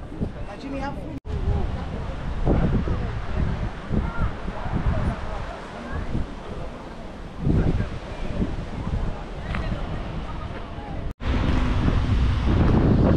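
Steady outdoor wind rumble with surf washing in the background, gusts buffeting the microphone throughout.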